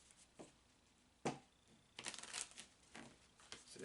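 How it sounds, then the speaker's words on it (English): Several quick bursts of tarot cards being riffled and shuffled, close and fairly quiet, with short pauses between them. "I like to do a shuffle 5 times"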